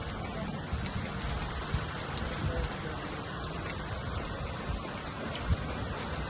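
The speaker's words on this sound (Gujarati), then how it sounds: "ધોધમાર વરસાદ પડી ગયો અમદાવાદમાં" Heavy rain pours down steadily in Ahmedabad, a dense hiss with scattered drips and patters landing nearby.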